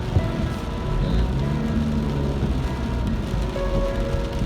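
Rain falls in a steady broadband patter, mixed with a low rumble of passing traffic, even and continuous.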